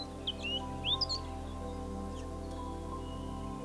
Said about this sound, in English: Noisy scrub bird is extremely easy to identify by its call, so is the Western Bristlebird.